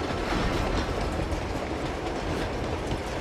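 A train runs along a railway in Uncharted 2, a steady, loud rumble of wheels on track with faint clickety-clack, continuous and without voices.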